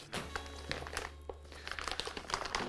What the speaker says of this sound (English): So just sliding the plastic bag off.